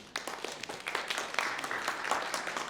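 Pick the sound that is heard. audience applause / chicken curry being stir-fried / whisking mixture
audience applause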